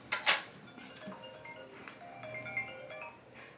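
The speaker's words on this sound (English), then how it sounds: "Telephone." A telephone rings with faint, repeated electronic tones behind a sharp clack, quiet and somewhat distant in a room with no talking.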